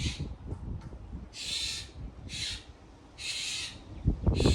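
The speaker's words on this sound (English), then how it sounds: "The birds are arguing again." Owl-like hooting calls outdoors, several bursts in an uneven back-and-forth pattern, moderately loud over a low background rumble, no talking.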